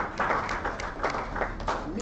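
A lecture audience gives a round of applause, moderately loud clapping of a crowd with bursts of rhythmic hand claps over a steady low hum, with voices mixed in.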